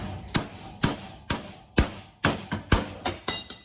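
Nine sharp metal-on-metal strikes from a breaker bar driving a bearing out of its housing, held in a vise on a workbench with no press, ringing out alone at a steady pace, close and loud.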